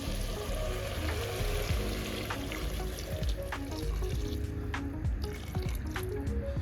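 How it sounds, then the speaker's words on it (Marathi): Water is poured into chicken curry cooking in a pot on a wood-fired stove, a steady close trickle and splash over the simmering bubbling of the curry. "पाणी ओतून घेऊ."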